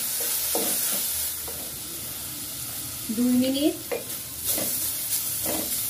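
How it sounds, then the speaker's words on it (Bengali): Chopped carrots frying in a pan with sliced tomato and four green chillies, a steady close sizzle with stirring scrapes throughout while someone speaks briefly over it. "3 মিনিট গাজর কুচিগুলোকে ভাজার পরে এখন দিয়ে দিব 1টি টমেটো স্লাইস করা এবং 4টি কাঁচামরিচ দিয়ে এর সাথে ভেজে নেব"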